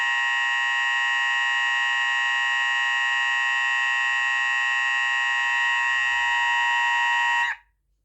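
A Hosiden Besson Banshee fire alarm sounder on buzz tone gives a loud, steady electronic buzz, holding one unbroken tone for about seven seconds, then cuts off abruptly.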